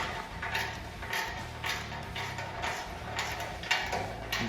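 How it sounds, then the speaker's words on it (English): Back bolts being tightened on a mailbox post bracket, a series of quiet ratcheting, creaking mechanical turns repeating in short bursts, close and fairly soft with no talking. "this is when you're going to tighten these back bolts that we had loose before"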